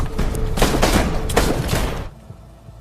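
Gunshots in an action film scene ring out as a rapid volley of close, loud cracks over about two seconds, then fall away to quiet.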